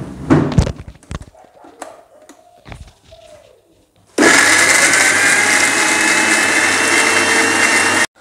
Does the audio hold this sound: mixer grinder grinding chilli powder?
yes